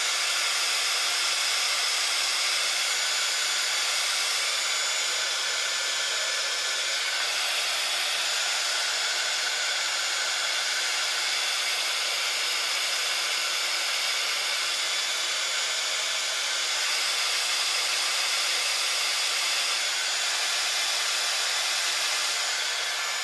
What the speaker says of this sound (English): I'm going to bring in my heat tool and quickly help drying these.